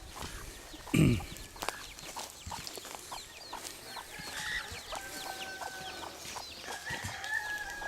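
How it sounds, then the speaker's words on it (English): Chickens cluck and a rooster crows outdoors in Ronda, Philippines, with high chirps from chicks scattered throughout and a brief louder thump near the start. "Some chickens. I don't know whose these are, some baby chicks."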